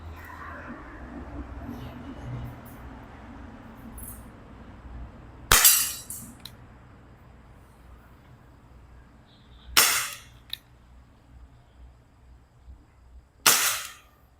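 Three sharp, loud cracks from a WinGun 703 BB pistol fired at a target 15 metres away, spaced a few seconds apart over a steady low background hum.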